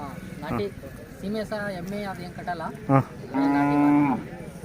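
Hallikar oxen low nearby on a farm, a deep drawn-out moo rising near the end, with people chatting around them.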